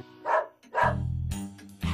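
A cartoon dog barks at a cat in a French animated series: two sharp, close barks in quick succession, followed by a sustained tonal sound.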